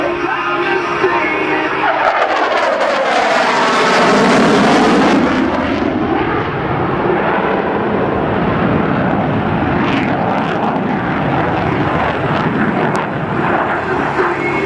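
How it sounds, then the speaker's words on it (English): An F/A-18C Hornet jet roars overhead during a demonstration-team overhead break at 500 feet, a loud, continuous engine sound whose pitch sweeps down and then back up as the jet banks through a decelerating turn. "perform the overhead brake, which results in a decelerating"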